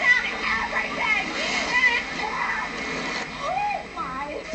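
Crashing, splashing water in a wave pool at a Disney water park, where a six-foot wave surges every ninety seconds, a loud continuous wash with children's voices and crowd chatter mixed in.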